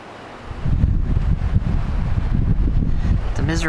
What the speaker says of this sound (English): It's very cold and windy.